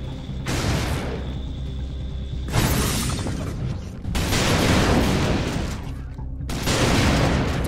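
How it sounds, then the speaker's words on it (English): Heavy, booming bursts of shotgun fire in a video game, several loud blasts a second or two apart, each trailing into a crashing, noisy tail, close and forceful, with no speech. "I love this gun. It's like a shotgun."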